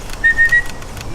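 A person whistles a short, high, steady note outdoors on a university campus, with a few brief breaks in the tone, standing alone over faint background noise.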